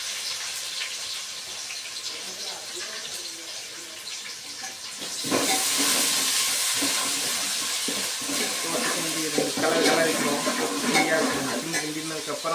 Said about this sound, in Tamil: அதுக்கப்புறம் ஆனியன் நம்ம நறுக்கி வச்சுருக்கோம் இல்லையா, 2 ஆனியன் பொடியாக அதை போட்டுக்குவோம்.